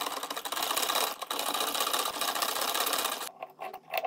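A sewing machine runs steadily, stitching fabric with a dense rapid mechanical rattle for about three seconds before slowing into a few short, sputtering bursts.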